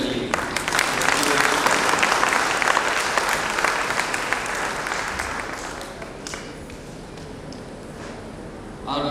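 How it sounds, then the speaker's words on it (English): Warm, sustained applause from an audience for children who performed at a disability association's memorial award event, loudest early, then gradually thinning and softening toward the end, with some voices faintly mixed in. "Can I request a big applause to the children who have performed"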